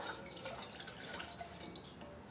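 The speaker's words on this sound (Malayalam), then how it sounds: "എന്നിട്ട് അതിലേക്ക് 1 കപ്പ് വെള്ളം ഒഴിച്ചു കൊടുക്കാം" Water runs and drips steadily into a pot on a gas stove, a continuous splashing trickle with small bright spatters throughout.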